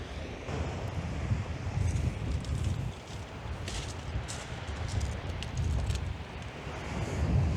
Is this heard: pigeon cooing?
no